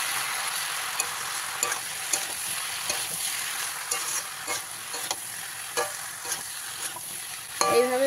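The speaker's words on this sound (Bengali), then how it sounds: "এই সব কিছু মশলা দিয়ে ভালো করে আবারও মিশিয়ে নিতে হবে" Fish head and Malabar spinach being mixed with ground coriander, cumin and Kashmiri chilli in a pan, with repeated scraping stirs over a continuous hiss and a brief clatter near the end, nearby and without speech.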